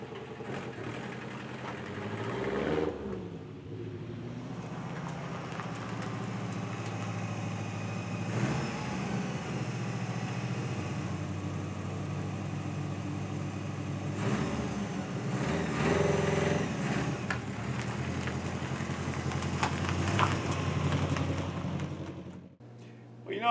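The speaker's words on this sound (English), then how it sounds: "I'll take her for a little spin." A small car, recently given an axle swap and suspension work, idles and then drives off for a short spin, its engine a steady rumble with a few revving swells and shifts over about twenty seconds, with no voices.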